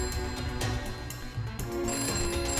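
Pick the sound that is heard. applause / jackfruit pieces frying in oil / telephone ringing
telephone ringing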